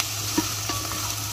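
Sauce frying in a pan is stirred, giving a steady faint sizzle with a couple of soft scraping knocks from the utensil, no voices.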